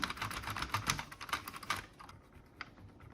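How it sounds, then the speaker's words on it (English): Keys on an Amstrad 464 Plus computer keyboard being cleaned, producing a fast, close clatter of plastic key clicks that thins out to a few scattered taps, with no voices. "And I'll just clean these keys."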